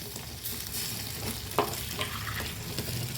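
Garlic chilli chutney simmers and sizzles in a pan, a steady close bubbling hiss with a faint stir or clink partway through.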